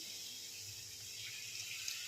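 Water pours steadily into egg curry cooking in a pan, a soft continuous hiss with no talk.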